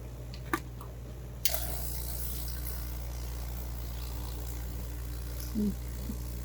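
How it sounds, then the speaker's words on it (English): Water is poured into a rock tumbler barrel holding stones and a little dish soap, beginning with a small drip and then a steady, close pouring hiss that runs to the end. "Add some water."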